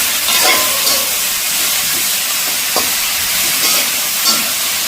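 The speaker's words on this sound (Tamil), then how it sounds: "சொல்லி எப்படி பொரிக்கிறது பார்த்தீங்கன்னா கறிமிளகாயெல்லாம் கொஞ்சம் பொரிஞ்சு கொண்டு வருது" Curry leaves and onions fry in a pan with a loud, steady sizzle and hiss, broken by a few light stirring scrapes, and no one speaks.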